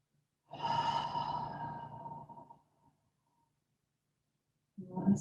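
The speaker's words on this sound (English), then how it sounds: "We'll take a nice deep inhale through the nose. Exhale, sigh it out the mouth." A long, audible breath, drawn in and then sighed out during a yoga and meditation practice, close and breathy, followed by silence and the start of another breath.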